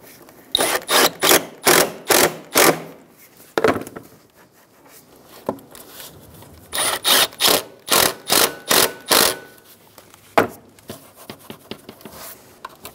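Hose clamps being snugged onto the throttle body of a 2010-2014 Subaru Outback 2.5L H4, with two runs of crisp, evenly paced ratchet clicks, close and loud, separated by quieter handling noises.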